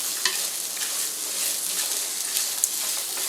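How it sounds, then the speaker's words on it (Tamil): Beetroot sautés in a pan with onion, giving a steady close sizzle and hiss with a few sharp scrapes and taps from stirring. "இப்போ வந்து பீட்ரூட் போட்டு வதக்கிடலாம்"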